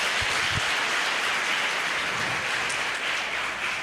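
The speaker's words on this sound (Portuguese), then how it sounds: "Vamos aplaudir ao Senhor por isso?" A church congregation applauds during an Easter sermon, a steady wash of dense, even clapping filling the space at moderate level throughout, with a couple of low thumps near the start.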